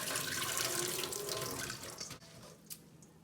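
Water runs steadily from a tap, splashing into a sink, then tapers off and stops with a small clink near the end.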